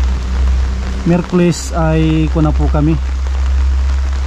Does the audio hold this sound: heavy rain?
yes